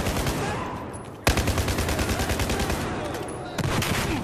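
Rapid automatic gunfire from a Battlefield 4 firefight, a dense stream of shots with a sharp loud burst partway through and another surge near the end, continuous and close.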